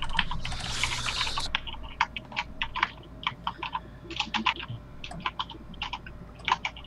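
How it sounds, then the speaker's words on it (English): Someone types on a loud computer keyboard, and the clicks come in irregular bursts of rapid keystrokes. A short hiss of noise at the start fades away, and no voices are heard. "you and me have the loudest keyboards"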